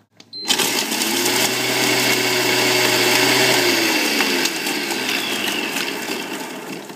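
A ThermoChef blender whirs at its highest speed, blitzing stale bread into crumbs, a loud steady motor drone that kicks in sharply, holds for about three seconds, then eases off as the blades spin down.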